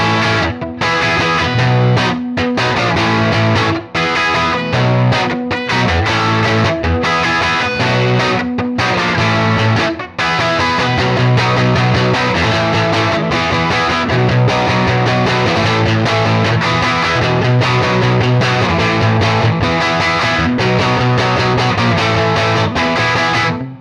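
Electric guitar played continuously through a Vintage Vibe amp-simulator preset with overdrive and reverb, giving loud, dense, distorted chords and riffs with a washy tail and only brief dips.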